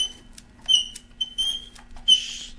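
Sharp, high-pitched squeaks come in several short bursts as a motorcycle seat is worked loose and removed, close by with no talking.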